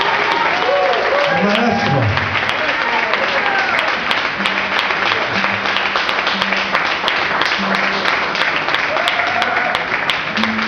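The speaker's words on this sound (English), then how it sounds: "How about some applause for Mr." Loud, sustained audience applause at a live concert, dense clapping filling the whole stretch while someone speaks and a voice calls out over it.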